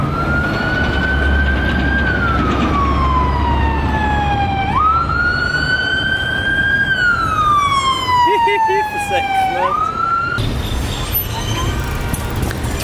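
Police car siren on a Mexico City street, a loud, close wail sweeping slowly up and down in repeated cycles over traffic rumble, then switching to a harsher pattern near the end.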